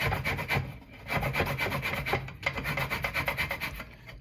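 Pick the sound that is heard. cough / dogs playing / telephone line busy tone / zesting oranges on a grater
zesting oranges on a grater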